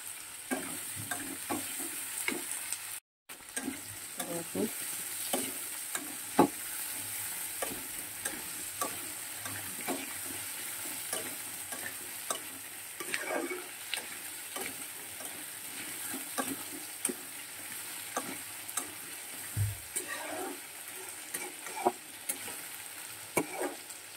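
Potato, onion and tomato fry in a pan, a steady low sizzle with repeated light taps and scrapes of stirring throughout, one brief dropout early on, no speech.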